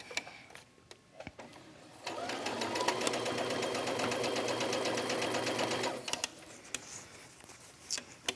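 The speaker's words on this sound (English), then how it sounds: "we're just going to go ahead and start sewing around the end of this tube" Sewing machine stitching around the end of a fabric tube for a winter muff, a steady rapid whir running for about four seconds between quieter handling noises, close and loud with no talk.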